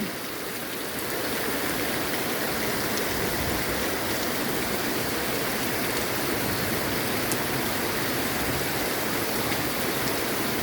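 Rain falls steadily in a dense, even hiss of drops that holds for the whole stretch, close and with no voices.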